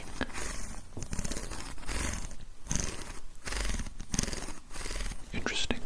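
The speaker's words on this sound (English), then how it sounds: "No, this is a very large-toothed comb." A large-toothed hair comb is stroked up close, giving a continuous run of raspy, purring brush strokes with brief pauses between passes.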